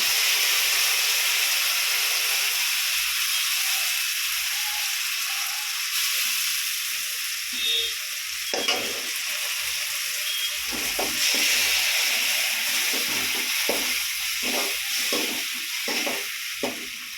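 Ground small tomatoes poured into a hot pan for a curry hiss and sizzle in a steady, close, continuous spatter, with some stirring clinks toward the end.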